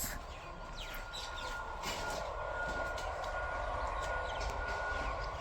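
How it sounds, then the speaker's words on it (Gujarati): A train passes near a village farmhouse, a steady broadband rumble and rush that holds loud for the whole stretch, with faint bird chirps above it. "ટ્રેન આવી રહી છે."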